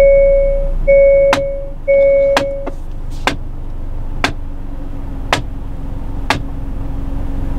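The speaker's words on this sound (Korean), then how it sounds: "밖에서 누가 이렇게 차 치는 소리." Inside a Hyundai Sonata DN8 2.0 (non-turbo), a few electronic chime tones sound after engine start, then a series of sharp, hollow knocks repeat roughly once a second over a low engine idle.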